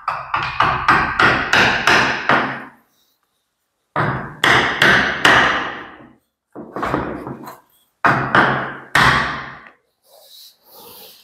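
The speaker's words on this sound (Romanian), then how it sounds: "Deci prima oară să bate o pană exact aici, nu în mijloc, nicăieri, decât aici unde este piciorul" A hammer drives a wooden wedge in at the foot of an interior door frame during installation. Rapid sharp wooden knocks come close and loud in four bursts of several blows each, with short pauses between.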